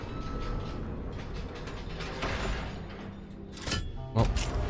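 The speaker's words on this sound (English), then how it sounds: "Let's hit the lever just to see what it does." A lever mechanism in Baldur's Gate 3 is pulled to work a door, giving a few mechanical clunks and ratcheting clicks, with a sharper clack near the end over a busy game background.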